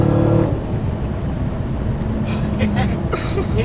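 A Hellcat Redeye car's engine accelerates on a track as a loud, steady low roar with rising strain, with someone talking over it from inside the car.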